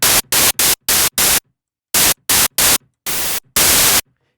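White noise synthesized in the Harmor synth, played as a series of loud, full-band hissing bursts of varying length, cut off abruptly and separated by short silences.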